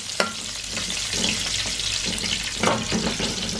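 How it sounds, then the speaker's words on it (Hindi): Cumin seeds sizzle in hot oil in a pan while aloo baingan is being cooked, a loud continuous frying crackle with a few sharp stirring knocks. "अब इसके अंदर जीरा डालूँ थोड़ा सा खुशबू के लिए। थोड़ा सा इसको ब्राउन हो कर लूँ"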